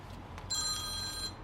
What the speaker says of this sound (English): Let me just work out where that phone is.